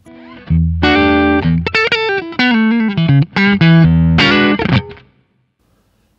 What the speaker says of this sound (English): if you want to crank it up, it really gives you a nice harmonic distortion